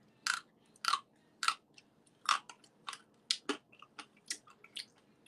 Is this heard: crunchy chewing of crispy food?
yes